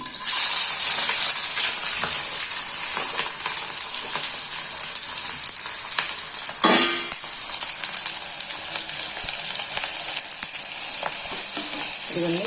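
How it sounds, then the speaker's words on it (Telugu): Long thin-sliced onions frying in hot oil in a kadai, a steady bright sizzle filling the whole stretch, with occasional stirring scrapes and a brief louder crackle midway. "2 ఉల్లిగడ్డల్ని ఇలా పొడుగ్గా సన్నగా తరిగి పెట్టుకున్నా. ఇప్పుడు ఈ ఆయిల్లో వేసేసుకున్నాం."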